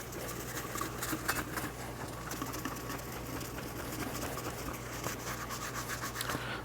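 A blue shop towel dampened with wax and grease remover rubs across a powder-coated tumbler, making a continuous close scratchy swishing of quick back-and-forth strokes with no talking.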